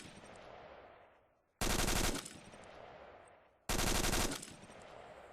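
Two loud bursts of automatic rifle fire in a shooting simulation game, each lasting about half a second and spaced about two seconds apart, with a long decaying echo trailing after each burst.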